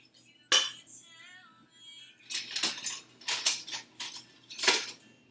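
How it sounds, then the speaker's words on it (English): A spatula scrapes leftover cheesecake cake batter from a mixing bowl, giving a sharp clink followed by a burst of rapid, close scraping strokes with brief pauses. "Might want to grab a spatula to get the remaining parts of it."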